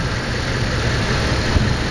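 A car engine fitted with a homemade hydrogen-on-demand system idles steadily up close, a dense low rumble with constant broadband noise and a faint high whine, with no talking.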